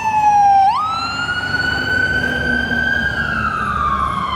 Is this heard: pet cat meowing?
no